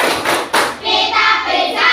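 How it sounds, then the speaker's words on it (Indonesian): A classroom of pupils performs a rhythmic clapping pattern, with sharp close group claps and thumps in a short sequence, followed by children's voices chanting together. "tepuk ganda, tepuk 3, tepuk semangat"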